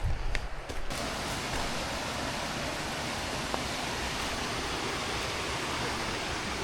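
A running stream and waterfall at Lagoa dos Ingleses pour out a steady, dense broadband rush that stays loud and even throughout, with a few brief knocks near the start.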